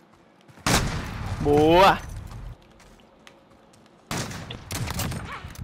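Gunshots from a Free Fire one-on-one match crack in two loud bursts, one early and one near the end, with a voice speaking over the shooting and quiet game ambience in the gap between.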